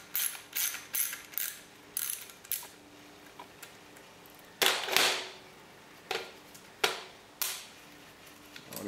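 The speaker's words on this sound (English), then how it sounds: "My quarter midget driver ratchet, same one I used over there." A quarter-inch-drive ratchet works bolts loose on the secondary air pump of a Mercedes, producing close bursts of sharp clicking with pauses between turns and no talk.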